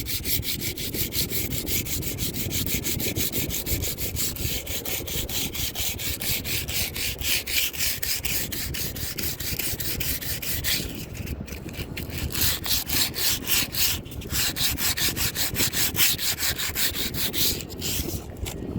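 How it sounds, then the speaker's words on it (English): Steady, continuous rasping of sandpaper scrubbing old silicone sealant off a skylight during a leak repair, close and loud with a fast even back-and-forth rhythm throughout. "then I'm using sandpaper. And this takes the last little bit of it off."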